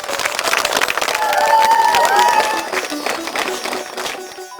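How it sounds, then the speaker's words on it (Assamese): A crowd in a village gathering claps and cheers together in a dense, sustained burst that swells and then eases, loud and close, with a faint tonal sound threading through the middle. "ৰাইজ, হাত চাপৰি দিয়ক"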